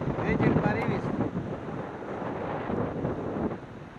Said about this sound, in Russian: Вот сейчас ветер порывистый.